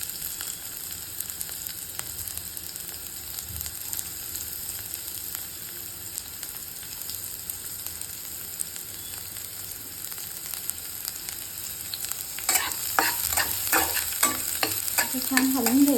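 Onion, garlic and green chili sizzling in oil in a pan for ridge gourd chutney, a steady frying hiss throughout, with stirring scrapes and louder crackling bursts toward the end.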